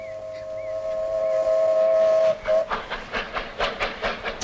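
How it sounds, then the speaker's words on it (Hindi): A train whistle sounds as a long steady tone for about two seconds, then the rhythmic clatter and chuff of the passing train takes over, loud and close, with no talk. "चल स्वामी चल, ट्रेन के साथ दौड़ लगाते हैं।"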